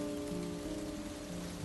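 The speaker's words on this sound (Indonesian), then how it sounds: "gemuruh hujan yang turun semakin deras" Heavy rain pours onto a park under an old tree, a dense unbroken hiss of drops with a low steady hum beneath it.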